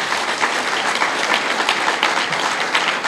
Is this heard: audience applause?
yes